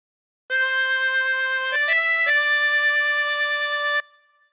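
Tremolo harmonica with 24 holes playing a song phrase, a few sustained, slightly wavering reedy notes stepping through several pitches, clear and close with no talking, ending in a short fade.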